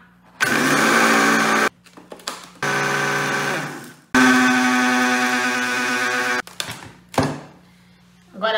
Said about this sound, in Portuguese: Mas Cá, por que você tá colocando no liquidificador? Porque eu preciso bater ela um pouquinho aqui